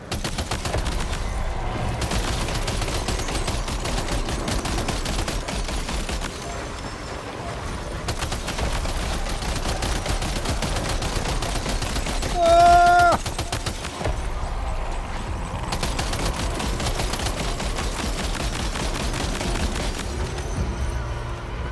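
Sustained rapid gunfire in the video game Death Stranding 2, dense repeated bursts continuing across the whole stretch, with a brief tonal game sound partway through and some speech.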